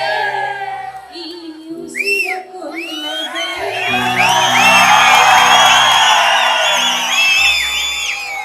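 A studio audience at a Kannada singing reality show erupts in loud, sustained cheering with shrill whistles and whoops, swelling after a brief quieter moment and staying dense and close throughout.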